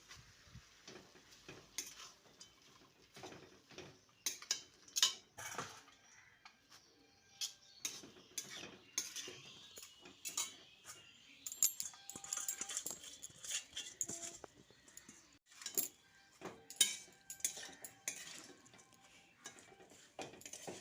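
Amaranth greens being stirred into potato and eggplant in a pan, heard as soft irregular scraping and clinking of a utensil against the pan, quiet and close, with no talking.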